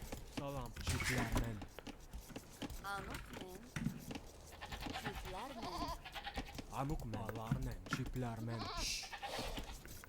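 Sheep bleat in a real-time strategy game as a player hunts for missing sheep, with repeated short wavering bleats mixed with game effects under steady commentary talk.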